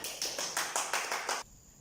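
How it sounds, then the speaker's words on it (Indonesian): Children in a classroom clap hands together in a quick, steady run of about seven crisp claps, fairly close and moderately loud, then stopping abruptly. "tepuk tangan"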